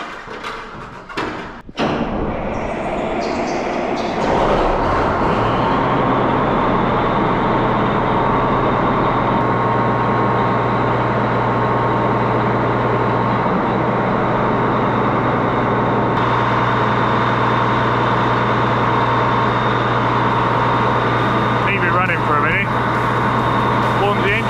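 A Claas Lexion 480 Evo combine harvester engine cranks with a few heavy thumps, then fires up and settles into a loud, steady idle that runs on unbroken; a voice talks briefly at the start.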